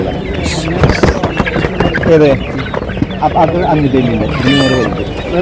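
Native roosters and hens at a Sunday chicken market in Tirur cluck and call up close, with a loud crowing burst near the end, while people talk over the busy market noise.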